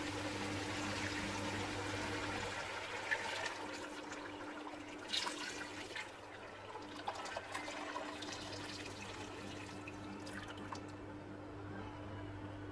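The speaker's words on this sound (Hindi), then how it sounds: "6 ग्लासेस ऑफ वाटर हम डाल देंगे" Water pours steadily into a cooking pot for beef pulao, a continuous splashing rush with a few louder gulps and a low hum behind it.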